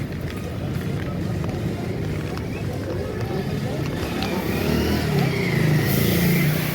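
Yamaha FZ motorcycle engine running with a continuous mid-pitched rumble that rises slightly toward the end, with people talking over it.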